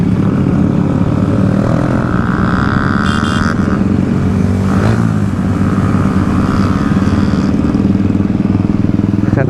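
A Panther motorcycle engine, BS6 version, revs loud and close during a group bike ride, a steady heavy roar with rising and falling pitch throughout.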